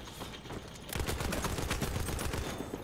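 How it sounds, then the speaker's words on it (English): Gunfire from the Battlefield 1 video game on the Ballroom Blitz Conquest map: after a quieter start, a dense rapid burst of machine-gun shots rattles continuously, close and loud. "Who is shooting at me?"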